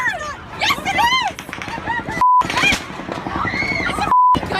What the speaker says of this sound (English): It's a gunshot, right?